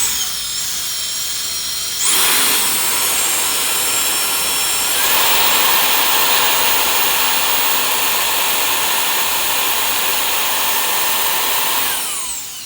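A Jet Fan Big Turbo electric jet fan runs at its third speed with a loud, steady high-pitched turbine whine and rushing air. The pitch steps up sharply near the start and again midway, then holds before dropping off at the end.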